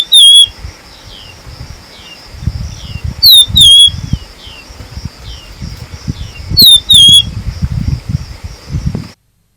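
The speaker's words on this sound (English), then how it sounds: "listen to how beautiful this bird's song is." A bird on safari repeats a loud, clear whistled call in bursts roughly every three seconds, each phrase a few sharp descending notes, over a steady high tone and low rustling handling or wind noise.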